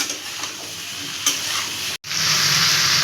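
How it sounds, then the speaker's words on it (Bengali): Vegetables and turmeric are stirred and sizzling in a frying pan for a Bengali pui shaak chorchori, with loud, continuous frying hiss, scraping strokes, and a brief drop in sound midway. "হলুদ দিয়ে ভালো করে মিশিয়ে দেব সবজিগুলোর সাথে"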